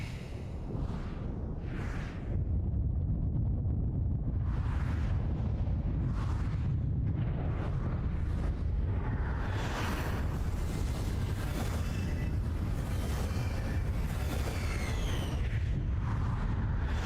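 A loud booming blast and roaring wash from a flashbang explosion in a video game, broadband and sustained, with repeated whooshing bursts layered over a heavy low rumble.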